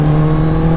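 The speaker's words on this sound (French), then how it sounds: "Oh là là, le compresseur, le bruit du truc." A supercharged Kawasaki H2 motorcycle engine holds a loud, steady drone with a strong low hum and a whirring upper layer throughout the brief moment.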